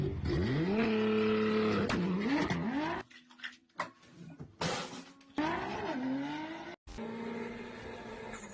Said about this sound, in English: Dodge Challenger's getting a little bit sideways. Burnout in front of McDonald's is not the greatest thing to do.